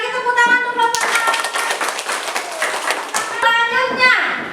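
Children clapping for a group in a classroom, a dense burst of applause with a few voices over it between short stretches of talk at the start and end.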